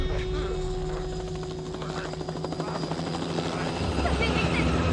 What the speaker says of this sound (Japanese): あのヘリは何のヘリなんだ。